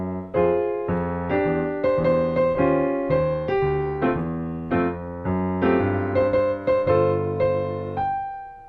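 A tritone chord substitution in a song, heard as a solo melodic chord progression of a dozen or so ringing chord attacks over about nine seconds, with no voices.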